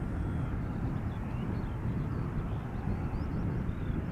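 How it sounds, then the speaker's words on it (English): Heavy jet engines spooling up at Schiphol Airport, a steady, broad low roar heard from a distance across the field, continuous with faint wind. "Once again hearing something heavy spool up from, I think, center."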